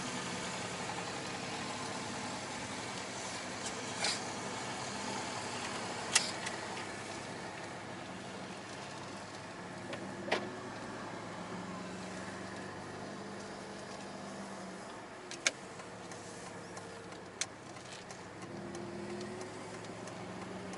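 An Aston Martin engine with a blown exhaust pipe running at a low, steady, rough drone with a rattling, Harley-like character, a few faint clicks and knocks scattered through it and no talking.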